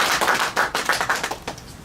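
An audience applauding at a meeting on judicial victims, a close, steady patter of claps throughout.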